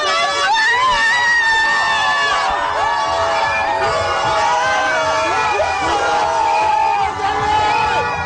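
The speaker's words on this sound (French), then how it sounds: "les rues d'Abidjan, comme ici au plateau où nous nous trouvons, ont été spontanément pris d'assaut par une foule hystérique venue célébrer cette victoire" A dense, loud street crowd in Abidjan celebrates an Ivory Coast football win, with continuous cheering, shouting and chanting, whistles and horns, rising and falling without a break.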